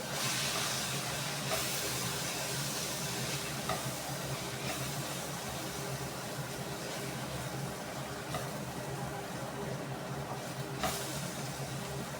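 Food fries in a pan for a home-cooked meal, with a long continuous sizzle and hiss. Regular spoon-scraping strokes repeat every second or two throughout, and no one speaks.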